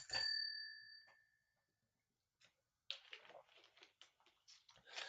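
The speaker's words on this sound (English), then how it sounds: "That's what happens when I try to ring my bell with one hand." A single bright ring of a bicycle bell, struck once with one hand, rings out and fades over about a second, followed by silence and then soft clattering, rustling handling noises.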